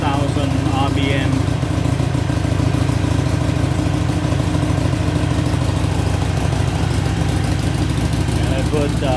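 A 2014 Harley-Davidson Iron XL883N on its stock exhaust idles steadily, a loud, close, continuous low rumble with an even pulsing beat throughout, and a voice speaks faintly over it.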